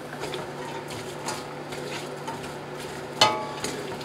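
Diced carrot, onion, celery and Granny Smith apple being stirred in a soup pot, a soft, close shuffling with a sharp scrape or clank near the end.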